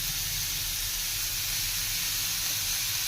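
Onions frying in a pan give off a continuous, even hiss like steam or spray, loud and unchanging for the whole stretch with no distinct pops.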